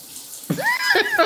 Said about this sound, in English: Wasting water.